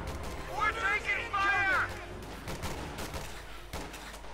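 Rifle and Browning automatic rifle fire crackles in Company of Heroes 2, a close burst of shots followed by scattered bursts, all under continuous commentary.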